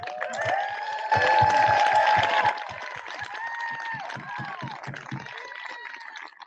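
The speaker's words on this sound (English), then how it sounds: "Let's give them a round of applause." Audience applause for a high school graduating class of 2020 at a school district ceremony, a loud burst of clapping and crowd noise that swells then settles into softer, scattered clapping under background chatter.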